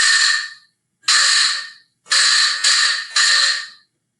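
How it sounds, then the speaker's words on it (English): A vibraslap percussion instrument is struck repeatedly, giving bright, buzzing rattles that each decay quickly, four separate strikes with short silences between, close and loud. "This is a vibraslap."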